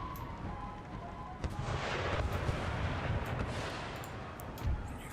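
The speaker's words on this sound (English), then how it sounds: "Should be nice and sheltered from any artillery fire." Distant artillery fire in Empire: Total War with the Darthmod mod, a low rolling rumble of cannon booms rising and falling over a steady battlefield din, with one sharper thump near the end.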